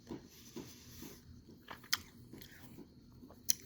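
Stale gum from a 1988 Topps football card pack is chewed up close, giving faint, soft crunching and biting sounds with a couple of sharper clicks.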